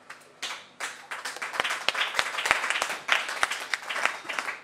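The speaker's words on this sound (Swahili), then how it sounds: "Mimi nilifikiri makofi yatakuwa ya kutosha." Congregation applause during a church worship service: a few scattered claps at first, then fuller, uneven clapping with sharp individual hand claps standing out, fairly close and without speech.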